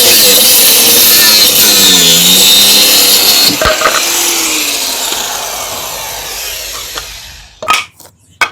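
A power tool cutting through old plywood, a loud, steady grinding whine that gradually fades and ends in a few sharp knocks.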